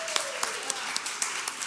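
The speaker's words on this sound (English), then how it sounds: "Please give those folks a round of applause." Audience applause at a pitch event, a dense wash of clapping with a few sharper individual claps standing out at regular intervals, fairly distant and steady throughout.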